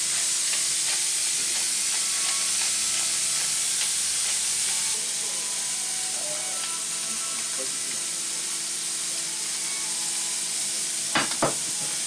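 Steady, loud sizzle of meat frying in a hot pan, seasoned with salt and pepper, a constant crackling hiss with a couple of faint clinks near the end.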